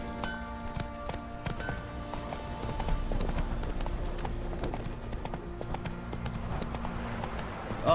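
A horse's hooves clip-clopping at a steady trot in The Witcher 3: Wild Hunt, a continuous even rhythm close by, with ambient game sounds underneath.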